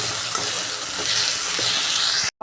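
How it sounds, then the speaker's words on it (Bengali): Ground spice paste and browned onions frying in oil in a pan, with continuous close sizzling and the scrape of stirring, and no voices. "মশলাটা কিছুটা কষানো হয়ে গেছে, কিছুটা তেলও ছেড়ে দিয়েছে"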